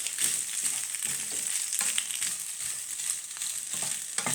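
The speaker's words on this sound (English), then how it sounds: "You guys have to mix about 5 minutes." Pasta being stirred in a pan of plain white pasta, a soft steady sizzle with faint scraping and shuffling strokes, fairly quiet and unbroken, no voices.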